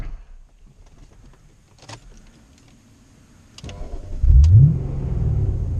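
A BMW M5 E39 with its V8 starts up from inside the car: quiet cabin shuffling and a couple of clicks, then the engine cranks and catches, settling into a loud, deep rumble.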